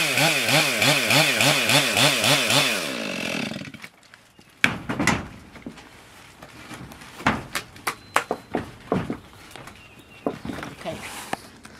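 A chainsaw runs steadily into a tree trunk for a few seconds close to buildings, then cuts off, leaving scattered knocks, footsteps and clatter with someone talking.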